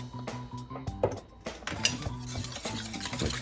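Eggs being mixed with milk in a bowl for French toast, a quick run of close clinking and tapping as a utensil beats against the bowl, with brief busy scraping and no talking.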